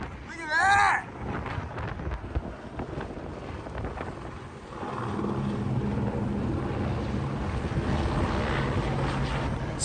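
A helicopter flies by an off-road racing event, heard from inside a truck camper: an excited shout comes first, then a broad rotor rumble rises and holds close and loud.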